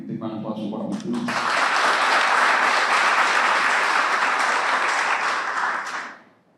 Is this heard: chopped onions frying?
no